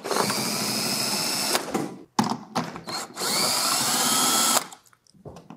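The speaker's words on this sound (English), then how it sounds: "take our 14 millimeter socket with our drill and remove the back plates, securing the box to the unit" A cordless drill fitted with a 14 mm socket spins out bolts from the back plates of an ultra-low freezer's shipping box, loud close whirring in two long runs separated by short bursts and stops.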